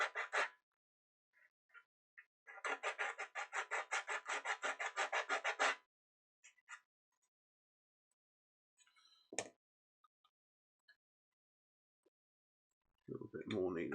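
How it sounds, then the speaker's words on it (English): A model part is sanded flush by hand, a close rapid rasping scrub in a few strokes lasting several seconds, then quiet with small clicks and handling, and a voice speaks briefly near the end. "sanding it down just slightly."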